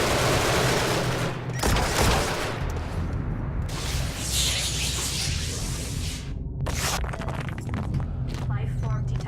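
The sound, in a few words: turret gunfire in the video game Genesis Alpha One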